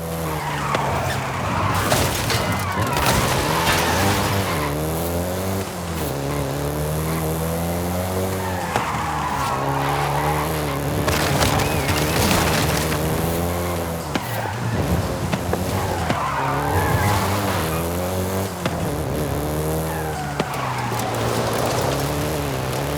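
A Volkswagen Golf GTI in Forza Horizon 5 revs and shifts through continuous engine drone, with repeated tire squeals and skids over about twenty seconds of hard driving.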